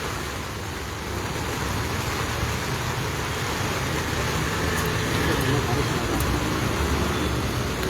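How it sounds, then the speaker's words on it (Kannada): Rain falls on a street while cars pass: a steady, broad hiss of rainfall mixed with road and traffic rumble, constant throughout with no clear pauses. "ಮಳೆ ಬೇರೆ ಬರ್ತಾ ಇದೆ"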